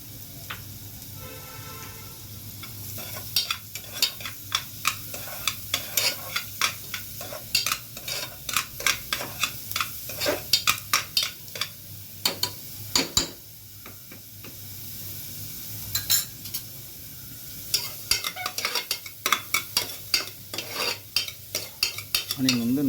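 Onion sautés in a pan for vegetable soup, a soft sizzle beneath frequent clicking spatula strokes against the pan, coming in uneven bursts with a short lull midway and no talking.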